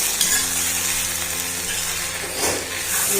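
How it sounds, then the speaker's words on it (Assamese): Steady close-up sizzling of banana flower and lentils frying in an iron wok, with a brief louder hiss and crackle swell partway through, no voices. "কলডিল আৰু দাইল ভাজ খাই গৈছে"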